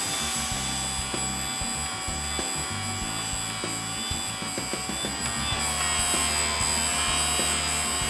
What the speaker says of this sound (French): c'est une meule diamantée à l'intérieur de la machine qui vient usiner ton forêt